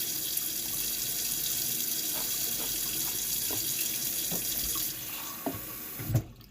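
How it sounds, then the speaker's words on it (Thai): Tap water runs steadily from a faucet in a loud, continuous hiss that drops off near the end, followed by a few light knocks. "ดื่มน้ำก๊อก ตีห้าครึ่ง"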